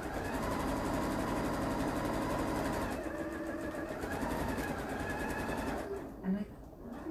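A sewing machine with a quarter inch foot runs a French seam around a pocket, a steady close mechanical whir of rapid stitching that slows near the end, then a brief bump.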